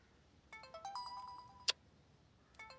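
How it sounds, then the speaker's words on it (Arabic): A mobile phone ringtone plays quietly in a room, a repeating electronic melody of short tonal notes, interrupted by a single sharp click before the tune resumes. "موبايلك عم يرن؟"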